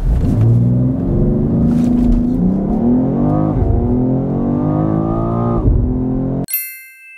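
A BMW X3 M Competition LCI accelerates hard from a standstill in a 0–100 km/h run. The engine note climbs through several rising sweeps broken by brief dips at the gear changes, then cuts off abruptly and gives way to a short ringing chime.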